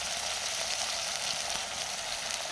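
Ginger paste and spices sizzle in a frying pan of hot oil, a steady, close hiss of frying that holds evenly throughout with no talking.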